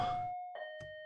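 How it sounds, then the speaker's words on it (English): A doorbell chime rings twice in a haunted house video game, two clear sustained tones with a short gap between them, heard alone over a quiet background. "Who the hell is ringing the bell at this hour?"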